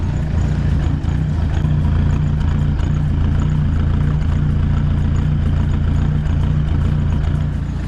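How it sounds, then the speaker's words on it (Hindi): A Tata Vista diesel car engine idles with a misfire, a steady loud low rumble with an uneven, faintly stumbling pulse, recorded close with no talk. "तो कार स्टार्ट हो गई और मिसिंग कर रही है।"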